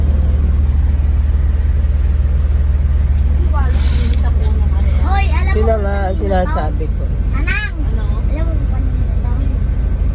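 Steady low street traffic rumble of cars and buses, with a brief air-brake hiss, on a road heading to a market; several people talk over the continuous din.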